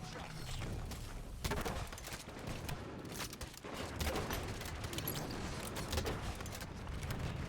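Grenade explosions in the Halo 5 video game, thudding booms mixed into steady dense gunfire and battle noise that runs the whole stretch without letup.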